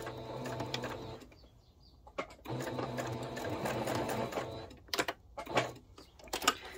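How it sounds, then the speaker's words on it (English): A domestic sewing machine stitching a short backstitch on a fabric jar opener, with steady motor whirring runs broken by brief stops, then a few short bursts and clicks near the end. "I'm going to come down a little way, and I'm just going to do a little bit of a backstitch there."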